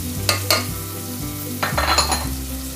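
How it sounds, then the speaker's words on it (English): Green peas and spices sautéing for a gravy-stuffed pulav, a low sizzle broken by a few quick metallic spatula clinks and scrapes against the pan, close by, and a steady low hum runs underneath. "again saute for another 2 to 3 minutes"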